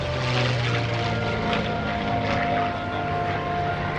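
A P-51D Mustang propeller fighter drones overhead at a naval air station airshow, its engine a loud, continuous rumbling roar that holds steady throughout.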